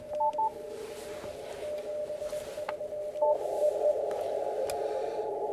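A CW Morse code signal comes through an amateur radio receiver's 600 Hz filter as short keyed tone beeps over a steady hiss of band noise.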